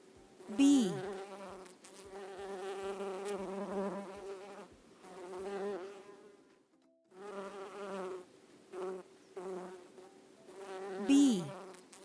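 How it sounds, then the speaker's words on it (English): A bee buzzing close by in a sustained droning hum that swells and fades as it moves, with brief pauses and a couple of sharper high-pitched zips. "Bee."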